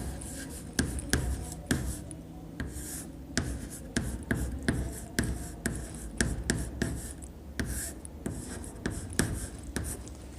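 Pen or pencil writing on paper, a steady series of soft scratchy strokes with brief taps, close and fairly quiet, while someone writes a greeting line in a letter.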